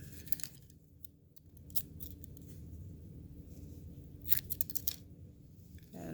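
Scissors snip through crochet yarn after the knot of a small doll-sized beanie hat is tied. A few quiet, crisp cuts sound in a quiet room, with a short cluster of snips just before the five-second mark.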